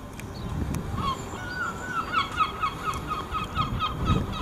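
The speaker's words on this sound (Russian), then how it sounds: "Как всегда кричат чайки у нас на крышах." Seagulls calling from city rooftops on a sunny day, a series of repeated mid-pitched cries spread across the clip, moderately distant over a steady outdoor background hum.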